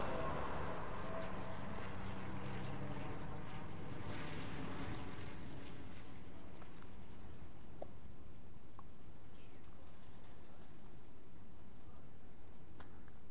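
A steady airplane engine drone in the video game Fortnite, loud at first and gradually fading into a quieter hum, with a few faint clicks scattered through.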